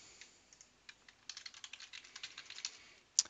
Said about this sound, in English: And I'm going to type my password.